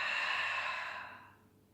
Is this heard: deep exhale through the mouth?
yes